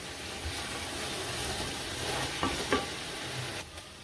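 Boiled beef being fried and stirred in a pot for Afghani Kabuli pulao gives off a steady soft sizzle, with a few sharp scrapes of the spoon along the way and no voices.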